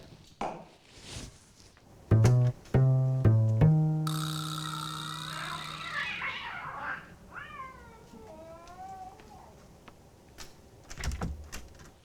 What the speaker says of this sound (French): Oh, sûrement un chat.